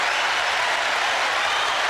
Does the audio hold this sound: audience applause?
yes